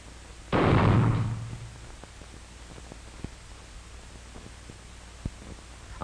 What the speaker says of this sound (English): Fred Armstrong is giving Jimmy some practice shooting at miniature